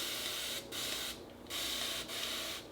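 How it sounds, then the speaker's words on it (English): A handheld spray bottle mists water onto type 4 natural hair in several short hissing bursts, each lasting about half a second with brief pauses between, close and fairly quiet. "I'm using my For My Kinks spray bottle."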